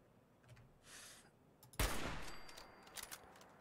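A pipe rifle firing in the video game Fallout 4: one loud, close, booming shot with a lingering tail, preceded by a couple of fainter, softer reports.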